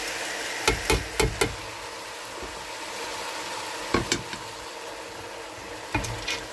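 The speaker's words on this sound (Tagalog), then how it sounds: "Haluin natin ng kaunti." Mung beans and leeks are stirred in a cooking pot over a steady sizzle, with a few clusters of sharp knocks from the spoon against the pot at the start, middle and end.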